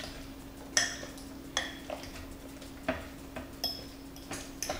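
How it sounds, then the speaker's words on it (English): A fork stirs cream cheese spread in a bowl for a veggie pizza sauce, giving sporadic light clinks and scrapes against the bowl at an uneven rhythm, quiet and close with no talking. "Now I'm going to grab a fork, and we're just going to mix this all together."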